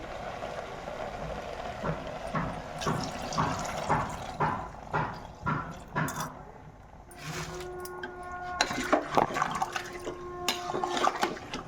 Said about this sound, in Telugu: ఇప్పుడు వాటర్ యాడ్ చేస్తున్నాను